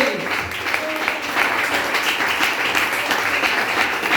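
Congregation applauding in a church service, a steady dense wash of clapping that holds at full level throughout, with some voices mixed in.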